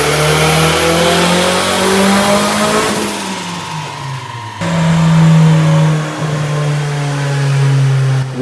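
K24 turbo engine swapped into a Nissan A31 Cefiro, running hard on a dyno: a loud, sustained high-rpm roar climbs, drops off sharply, then surges back with a steady tone while a turbo whine rises and falls.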